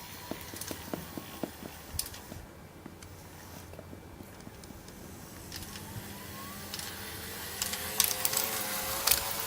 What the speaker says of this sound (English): you only hear the whine of the motor now.